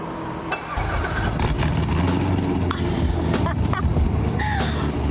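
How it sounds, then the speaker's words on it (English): Corvette with a stage 2 cam pulling out of a shop, its engine rumbling close and loud with a choppy idle and light revs, steady throughout, with brief voices in the background. "They're about to pull the Corvette out."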